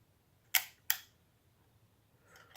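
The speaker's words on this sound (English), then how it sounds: "here's the shutter" Two crisp mechanical shutter clicks from a twin-lens reflex (TLR) medium format film camera close by, spaced apart in a quiet room, followed by a faint softer rustle.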